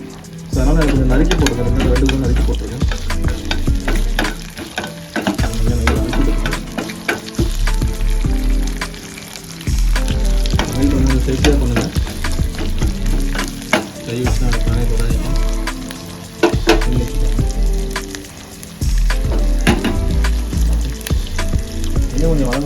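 Onions sizzle and crackle in a pan while utensils scrape and stir in uneven bursts, with a voice speaking over the cooking at times.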